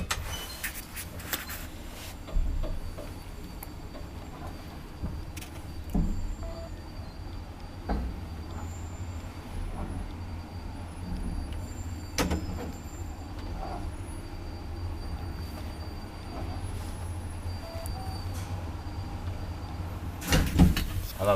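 An old Valmet-Schlieren traction elevator in a Järvenpää apartment building hums low and steady during the ride, with occasional clunks and thuds of the doors and car, quiet and enclosed.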